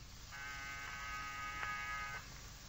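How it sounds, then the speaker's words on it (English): An apartment door buzzer gives one steady electric buzz for about two seconds, loud and harsh over a low background rumble. "press the buzzer of a door"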